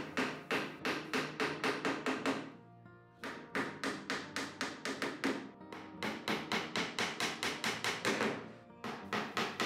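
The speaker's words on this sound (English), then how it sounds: "I'm driving the nails for my rivets. I'm holding my backing iron against the bottom panel to provide some resistance to the hammer blows." A hammer drives nails for copper-style rivets into lapstrake canoe planking, with a backing iron held against the panel. The blows are sharp and rapid and come in rhythmic bursts of about ten strikes, separated by brief pauses.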